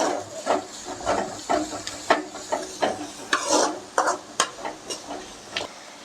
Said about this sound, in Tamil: இப்போ இது எல்லாமே ஒரு டூ மினிட்ஸ் நல்லா வதக்கிக்கலாம்